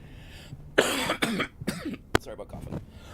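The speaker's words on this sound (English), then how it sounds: "Sorry about coughing." Several harsh coughs and throat clearings burst out in quick succession, close to the mic, with short gaps between them and a final sharp cough; no other voices.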